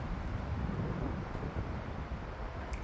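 Strong wind buffets an outdoor tennis court at an open tournament, making a constant, loud, broadband rumble and roar, like gusts hitting the microphone, with no voices.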